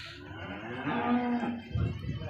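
A cow moos once at a cattle market in Loni, a drawn-out mid-pitched call that rises and then fades, heard fairly close, followed by a brief low grunt over quiet background murmur.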